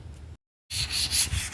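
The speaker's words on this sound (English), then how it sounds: "got him sanding the fender down" Sanding the fender of a 7th-generation Honda Accord by hand, a short rough rubbing stroke, a brief pause, then a brighter, louder scratchy pass close by.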